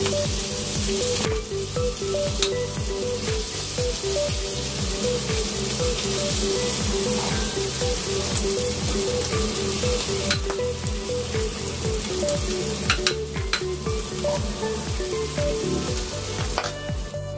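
Pork sisig fries in a hot pan with a loud, steady sizzle and crackle that runs without a break, with faint stirring knocks scattered through it.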